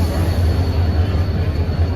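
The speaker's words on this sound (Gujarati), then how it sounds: "ગાડી આવી" Train pulling into a railway station at night, a steady loud low rumble of wheels and engine close by, with faint crowd babble underneath.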